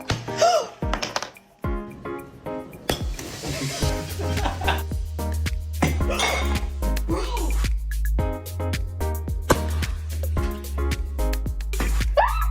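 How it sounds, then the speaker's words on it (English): Eggs exploding inside a microwave oven: several sharp pops and thuds, close by, mixed with excited voices and a low mechanical hum. "Shit, the eggs are exploding!"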